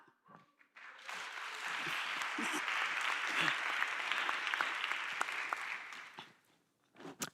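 Chapel audience clapping, rising from a few early claps into sustained applause that holds for about five seconds before fading, with a couple of voices faintly at the edges.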